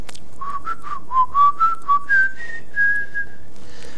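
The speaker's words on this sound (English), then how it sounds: "I whistle a Gregorian chant" A person whistles a Gregorian chant, a slow, smooth melody of about a dozen clear pure notes that rise gently and end on a held tone, close and solo.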